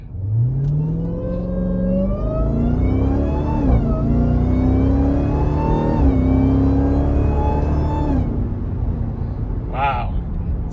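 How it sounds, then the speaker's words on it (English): Jeep Trackhawk with its mid muffler deleted, supercharger whine climbing in pitch through a hard acceleration pull, loud and close, with engine roar beneath and brief dips at each gear shift before it fades out. "Supercharger whine. You can definitely hear it."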